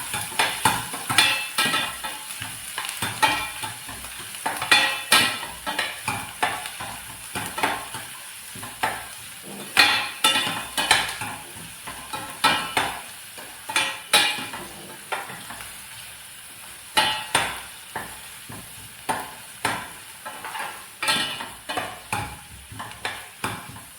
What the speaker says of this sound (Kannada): ನೀರುಳ್ಳಿ ಒಳ್ಳೆಯದು ಫ್ರೈ ಆಗಲಿ